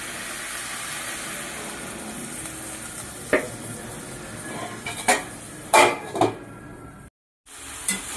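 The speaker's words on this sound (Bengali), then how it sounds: "আমার হলুদ দিয়ে দিলাম। এবার একটু নাড়িয়ে নেব" A spoon stirs salt and turmeric through spices in a pan of frying cauliflower, giving a few sharp metallic scrapes and clinks over a steady low sizzle, with a brief silent gap near the end.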